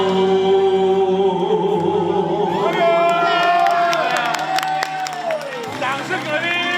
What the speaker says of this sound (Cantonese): 掌聲嗰啲，多謝兄弟